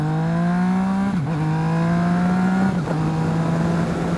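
A Yamaha MT-09 SP motorcycle under way, its engine droning with a steady rising pitch that dips twice as the quick shifter snaps through upshifts, loud and continuous with no talk.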